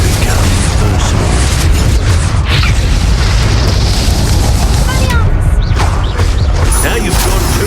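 Incendio fire spell blasts in Hogwarts Legacy during a boss fight against the Pensieve Guardian, loud dense booming bursts over a continuous rumbling battle din, with voices talking over it.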